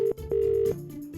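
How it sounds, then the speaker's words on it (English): A toy telephone keypad is dialed during truck toy play to call police: loud, close electronic beeps, two steady tones separated by a short gap, then a softer lower tone. "I think we better get on the phone to our friends at the police department and get them to help us out."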